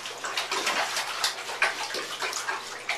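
Trombone cleaning snake worked back and forth through bathwater in a tub, giving a steady wet swishing and sloshing with small splashes, close and continuous.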